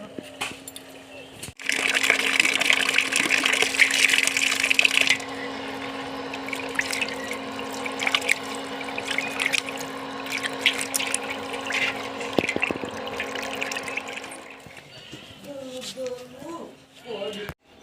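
Tap water runs steadily over chopped chicken skin and feet as they are washed, loudest in a burst near the start, with splashes and handling noises and a voice talking over parts.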